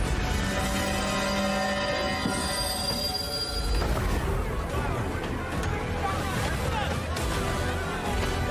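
A train from the Last Train Home video game trailer, with loud metallic wheel squeal ringing over steady rumbling rail noise, then heavier clattering rolling sound under music and voices.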